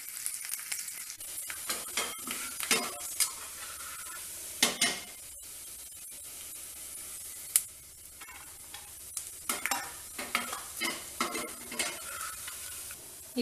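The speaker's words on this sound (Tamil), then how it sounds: "இப்போ தேங்காயை போட்டுக்குவோம். நல்லா ப்ரௌன் கலரில் வரட்டும்." Grated coconut frying in a pan until brown, a soft continuous sizzle broken by frequent clinks and scrapes of a spoon stirring against the metal, with a few sharper knocks.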